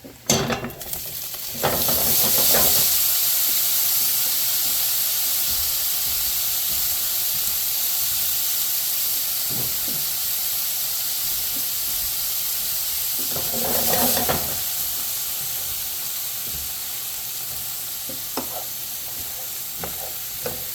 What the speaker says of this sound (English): I'm going to add a little bit of oil to this, and we're going to cook these cherry tomatoes in this meat pan.